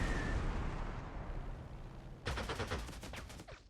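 Artillery fire in the WWII strategy game Panzer Corps 2, a decaying rumbling blast followed by a sudden burst of rapid cracking shots and explosions, loud and close.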